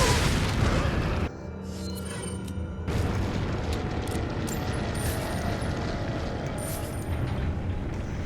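Hand grenade blast in Resident Evil 4 (2005), a heavy booming burst up front followed by a rumbling, crackling tail that drops then swells again with mechanical debris noise.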